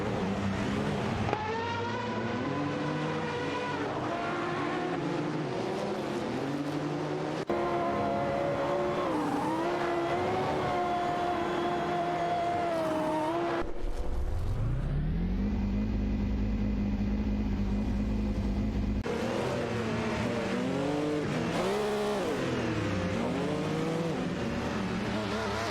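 Race cars from a video game, a Toyota 88 CV and a Nissan R90, howl around Assen in an AI-driven race, engines revving and shifting continuously, with one car droning steadily and loudly close by mid-clip.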